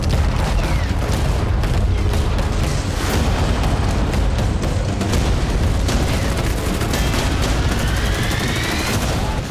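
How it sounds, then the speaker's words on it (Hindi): War footage of Russian T-90 tanks shelling trenches and missiles striking: a dense, loud, continuous barrage of booms and rapid gunfire with no pause. "रूसी सेना ने T-90 टैंकों से ट्रेंच में यूक्रेनी सैनिकों पर गोले दागे।"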